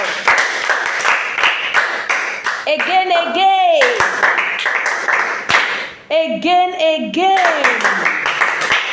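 A language class claps for itself in loud, close, crisp bursts of group clapping, broken by two stretches where a voice speaks over the clapping before it resumes.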